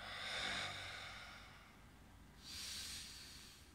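Two strong breaths out during a lower-back exercise session, each a broad airy whoosh, the first longer at the start and a second, sharper exhale near the end, close and alone with no talk.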